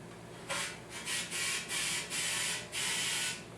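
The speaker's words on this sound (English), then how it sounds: "we'll blast some air through it real quick. You should be able to hear it up top." Several short bursts of compressed air blown through a motorcycle carburetor on a 2007 Kawasaki Ninja 250, one after another with brief gaps, fairly loud against a quiet background.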